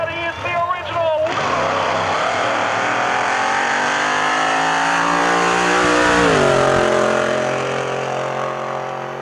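The Little Red Wagon wheelstander roars at a drag strip. A loud, sustained engine scream holds steady, then its pitch bends as the revs drop and rise again.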